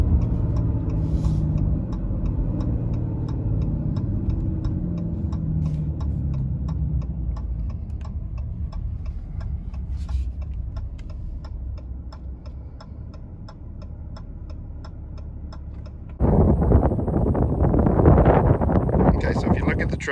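A 2019 Ram 2500 pickup, set up for towing, rumbles steadily at close range while it slows, with low engine drone and wind buffeting, then the sound turns louder and rougher near the end.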